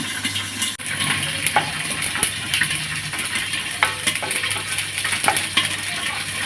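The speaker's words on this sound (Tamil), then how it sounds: "நல்லாவே எள்ளு வந்து பார்த்தீங்கன்னா நல்லா படப்படம்னு பொரியறது" Dense crackling and popping of sesame seeds dry roasting in a pan, with steady fizzing and scattered sharp pops running continuously and fairly close.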